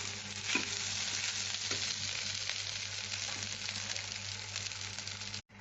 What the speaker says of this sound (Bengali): দিয়ে আমি এটা একটু নাড়াচাড়া করে নামিয়ে নেব।